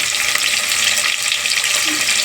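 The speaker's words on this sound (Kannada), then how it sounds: "ಈಗ ಇದು ಕೆಂಪಗೆ ಫ್ರೈ ಆಗಿ ಸ್ವಲ್ಪ ಮೀಡಿಯಮ್ ಆಗಿ" Freshly ground spice masala fries in a pan, a steady, close, broadband sizzle and hiss that holds throughout without talk.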